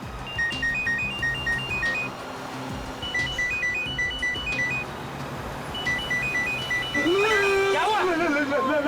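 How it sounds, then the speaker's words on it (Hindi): A mobile phone rings from the luggage compartment of a vehicle, its short melodic ringtone repeating in three clear rounds over a noisy, rumbling background, with a voice rising at the end. "घंटी बज रही है लेकिन उठा नहीं रहे।"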